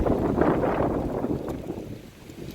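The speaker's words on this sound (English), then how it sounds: "It is a very, very windy day here in Bangor." Strong wind in Bangor buffets the microphone in rough, continuous gusts, a dull roaring rumble that rises and eases slightly.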